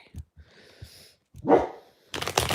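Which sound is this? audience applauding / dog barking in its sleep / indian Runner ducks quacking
dog barking in its sleep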